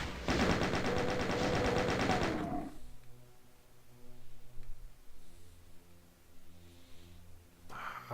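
Rapid shotgun fire in a video game, a dense burst of loud blasts for about two seconds and a final shot near the end, separated by quieter low rumbling game ambience.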